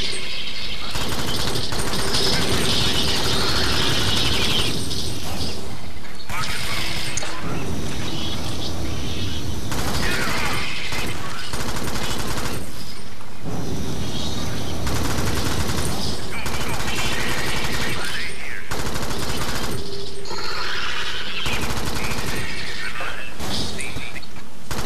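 Rapid bursts of gunfire from the co-op shooter Alien Swarm, dense and loud throughout, broken by brief gaps, with game effects and a voice talking over it.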